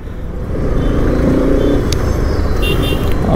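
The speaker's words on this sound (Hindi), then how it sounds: "काफ़ी स्मूथ है इसका इंजन बहुत रिफाइन करा के आ रहा है" A Bajaj Pulsar RS 200 motorcycle engine hums steadily while riding, a close, smooth drone with wind rush building as the bike picks up speed.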